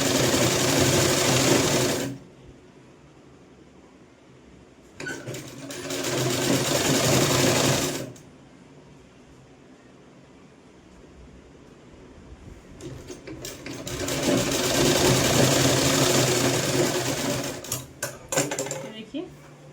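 A sewing machine top-stitching a sleeveless kurti, running in three loud, steady whirring bursts of a few seconds each, separated by quieter pauses with light handling sounds.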